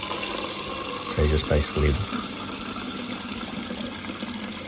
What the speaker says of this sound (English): flushing water through the system